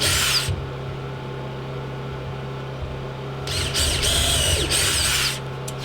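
Close power drill or driver whirring through screws into green wood on an Alaska cabin deck, with a short burst at the start and a longer, steadier run near the end over a quiet outdoor background.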